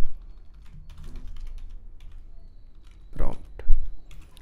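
Keystrokes on a computer keyboard while writing Playwright test code, a few soft taps under a man's speech, ending in a short louder burst of typing.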